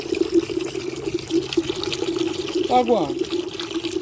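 A hose runs water into a container, filling it about halfway, with a steady low trickling and pouring under close speech.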